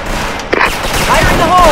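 Video game gunfire comes in a short, loud burst of shots among game sounds, with a voice heard around it.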